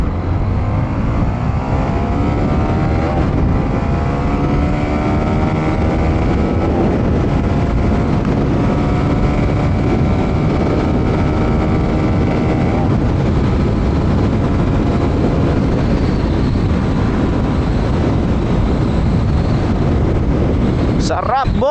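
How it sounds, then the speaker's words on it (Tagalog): Strong wind roars over the microphone while a 2026 Honda Winner X150 underbone motorcycle is ridden, a loud, continuous rumbling buffet mixed with engine drone throughout. "Lakas ng hangin."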